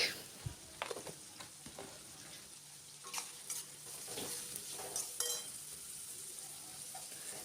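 Onions with salt cook in a pan with a soft, steady sizzle while a utensil stirs and scrapes them, adding scattered light clinks and taps.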